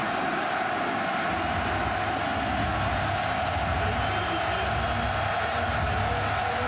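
Steady roar of a packed stadium crowd at a 2010 Penn State college football game against Michigan, a dense continuous wash of cheering and shouting with no breaks throughout.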